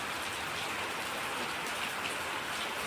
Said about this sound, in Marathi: हा पाऊस तर खूपच लवकर सुरू झालेला आहे